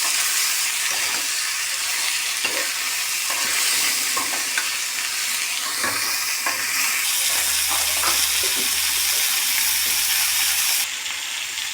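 Two medium-sized tomatoes fry in a pan with a loud, constant sizzle, joined by intermittent scraping and stirring clicks from a utensil.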